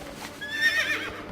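A pony whinnying at the Darkmoon Faire pony rides in World of Warcraft, a single close, clear neigh rising and wavering for about a second over faint game ambience.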